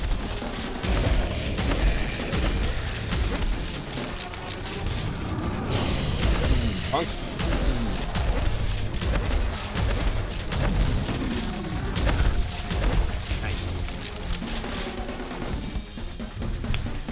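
Explosive barrels in a cave blowing up one after another in the shooter video game Prodeus, a dense, loud stretch of booms and rumbling blasts mixed with gunfire and game clatter.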